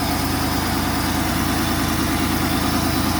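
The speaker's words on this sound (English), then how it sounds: "there's an exhaust leak right about there, in that area where in the headers meet the exhaust that goes down" The V6 engine of a 1986 Pontiac Firebird idles loud and close, with an exhaust leak where the headers meet the exhaust pipe adding a steady rough, ticking rumble with no pauses.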